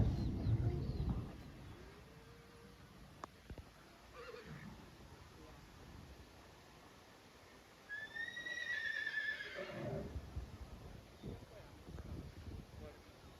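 A horse whinnies beside the listener, its rising-then-falling call ringing out once for a couple of seconds amid outdoor ambience, with a few faint voices and birds around.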